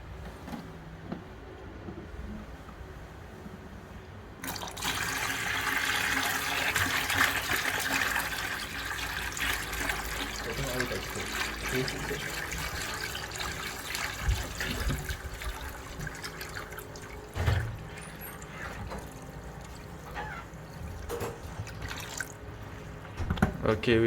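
Water is poured in to fill a container, starting after a few seconds of quiet as a continuous rushing splash that carries on for the rest of the clip, broken by a few knocks and clunks.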